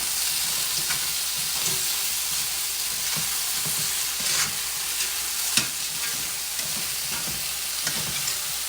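Beef searing with garlic in a hot pan for a crockpot ranch beef stew, giving a steady close sizzle with occasional stirring scrapes and no talking.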